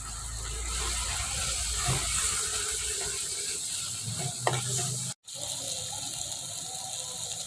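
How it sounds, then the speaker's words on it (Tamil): Chili powder being stirred into Tamil-style fish curry (meen kuzhambu) in a pan, with steady scraping and clinking of a spoon against the metal over a constant background hiss, a few sharper knocks, and a brief dropout near the end. "மிளகாத்தூள் போட்டுக்கலாம் நல்லா மிக்ஸ் பண்ணிக்கலாம்"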